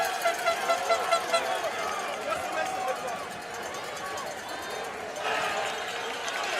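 Spectators packed deep along both sides of the Namur cyclo-cross World Cup course cheer and chatter in a steady broad crowd wash, with rhythmic bursts early on, beneath continuous commentary.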